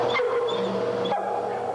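A rescued dog gives a short, close bark or yelp, a brief vocal burst standing alone in a quiet indoor space.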